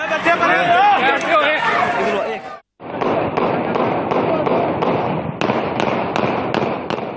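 Pistol gunfire at a gathering in Pakistan, a rapid series of sharp cracks fired in quick succession, some near and loud, heard after a crowd's chatter and shouting that briefly cuts out before the shots begin.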